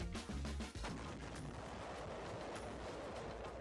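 600 pounds of TNT detonating on Fort Drum, the concrete island fort, lets out a huge booming blast followed by a long, loud roaring rumble that carries on steadily.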